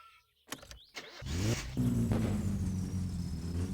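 Car engine in the game My Summer Car, with a chirping noise from the distributor: a few clicks, then the engine cranks and catches, settling into a steady close idle with a faint high whine.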